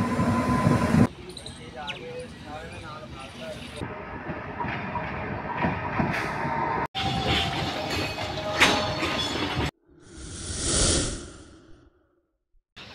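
The Amrapali Express at Rajpura railway station rumbles and clatters past in several abruptly cut segments, with breathy gusts of air and a loud whooshing swell near the end.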